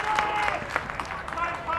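A football crowd cheers and applauds after a great kick, a steady roar of clapping and voices beneath a commentator talking over it throughout.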